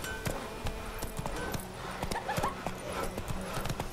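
Hoofbeats of the horse Roach in The Witcher 3, a brisk rhythmic clip-clop of steady trotting, close and clear with small clinks and faint background ambience.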